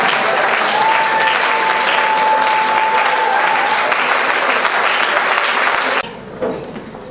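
A church conference congregation applauds loudly and steadily, a dense sustained wave of clapping that stops abruptly near the end, leaving a brief quieter tail.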